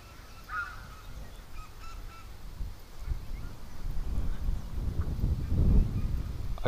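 Ducks honk and quack in scattered calls, fairly faint at first, with a low rumbling bustle that builds toward the end.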